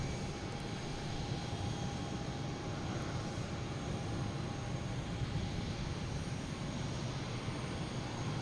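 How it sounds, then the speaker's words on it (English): A JetBlue Airbus A220 jet takes off at Boston Logan International Airport, heard as a steady, moderately distant engine roar with a faint tonal whine that holds throughout, with no talk over it. "Next taking off, we have, oh no, another JetBlue heading to Tampa."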